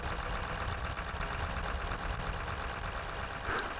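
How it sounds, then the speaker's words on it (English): A cold Ford 7.3 Powerstroke diesel engine runs at high idle while warming up, a steady, moderately quiet rumbling drone heard without talk throughout. "the engine actually just kicked into high idle because it's cold and it's warming up."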